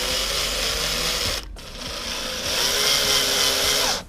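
A power drill whines steadily while driving into a custom subwoofer bracket being fitted in place, loud and close with a brief pause partway through before the motor picks up again, no talk over it.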